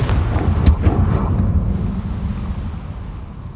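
Confringo, an explosive fire spell in Hogwarts Legacy on PS5, bursts with a loud crack, then a deep thunder-like rumble that rolls on and slowly fades away, with no one talking.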